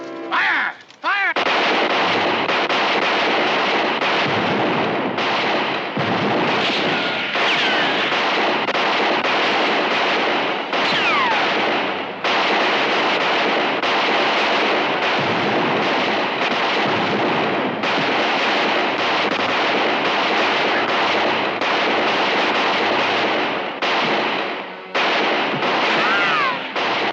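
Rapid gunfire from a western gunfight crackles without pause, dense overlapping shots and blasts filling the whole scene loudly, with shouting voices briefly mixed in.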